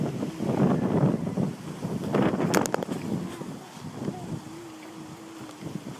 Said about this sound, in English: wow, that wind feels amazing